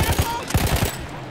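Rapid bursts of gunfire in Battlefield 1, a World War I shooter: several quick shots in a short volley that thins out toward the end, fairly close.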